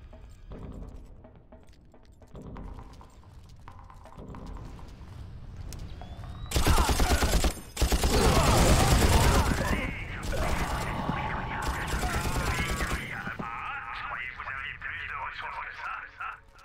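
Gunfire rings out in the first Far Cry game as enemies soak up many bullets. Loud bursts of rapid shots come in clusters, interrupted by short gaps, over mechanical clatter while someone talks throughout.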